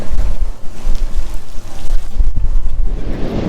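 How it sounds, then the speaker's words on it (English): Strong wind buffeting the microphone on the open deck of the Caribbean Princess cruise ship, a loud continuous rumbling roar with gusty swells throughout. "the wind is blowing, I'm cold"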